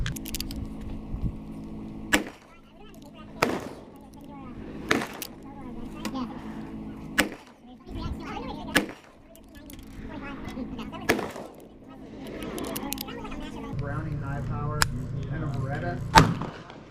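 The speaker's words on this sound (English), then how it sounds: "we're now shooting the right target with the 9mm barrel" Shots from a 9mm Altor pistol fired at a target ring out as sharp, loud reports spaced every second or two, about ten in all, with a person talking underneath between them.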